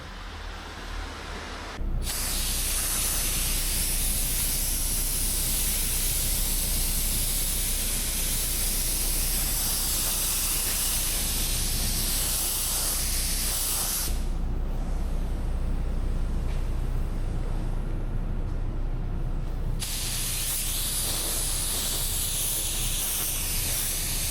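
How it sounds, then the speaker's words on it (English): A spray gun painting a Kia K5 car panel hisses steadily and loudly at close range in long continuous passes, with two brief drops in intensity between them. "we're gonna start spraying."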